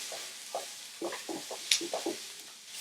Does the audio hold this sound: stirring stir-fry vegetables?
yes